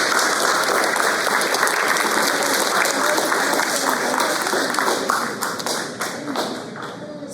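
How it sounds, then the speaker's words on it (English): A round of applause at a fifth-grade school recognition ceremony: dense, sustained clapping that fills the whole stretch and thins slightly toward the end. "you owe yourselves a round of applause"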